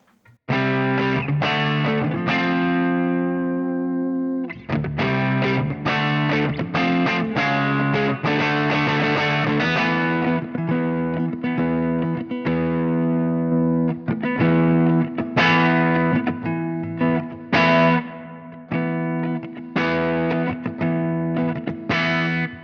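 An electric guitar plays loud, sustained distorted chords and riffs, with the distortion coming from the amp model of a Fractal Axe FX and a compressor block placed after it holding the volume steady. No one talks over the playing.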